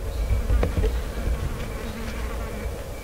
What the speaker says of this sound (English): Looks like a bumblebee or something.